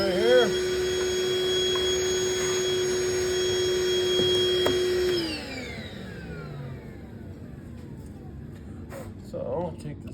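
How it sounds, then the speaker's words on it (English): A vacuum cleaner whines loudly with a steady high tone while cleaning MDF in a DIY speaker build, then switches off and winds down, leaving quiet background noise. "grab a vacuum right here"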